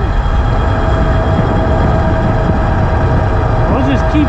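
An Ariel Rider X 60 electric bike upgraded to 60 volts, ridden at full throttle around 38 miles an hour, with a loud, steady rush of wind and motor whine throughout and a voice speaking over it.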